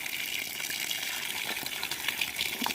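Water gushes steadily from a solar-powered borewell pump on a farm, a dense continuous splashing rush that stays loud and close for the whole stretch, with no voices.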